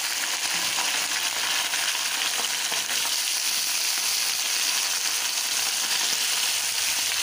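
Eggplant, potato and tomato frying in a pan with browned onion make a loud, continuous dense sizzle that runs the whole time with no pauses.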